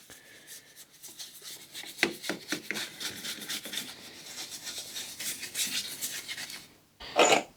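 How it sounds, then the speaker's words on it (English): A brush scrubs degreaser into the dirty engine of a hot hatch car, making close, quiet, irregular bristle rubs and scratchy strokes, with a brief sharper burst of scrubbing near the end. "Just put it on the dirty areas and use a brush to loosen up the dirt."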